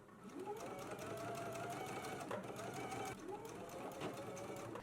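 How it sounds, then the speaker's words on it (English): A sewing machine stitches the neck edge of a shawl collar at a 5/8-inch seam allowance, running steadily and close with a steady whirring drone and a brief pause partway through. "let's go ahead and stitch it now using a 5/8 of an inch seam allowance"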